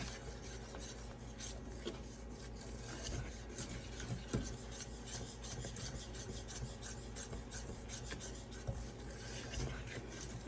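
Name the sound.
whisking vanilla into a mixture in a pan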